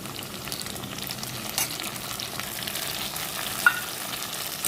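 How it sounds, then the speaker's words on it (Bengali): Ginger, garlic and cashew paste sautéing in a pan, with a steady close sizzle and soft scraping as it is stirred, a brief clink near the end. "এটাকে ভালো করে একটু নেড়ে চেড়ে কষে নেব।"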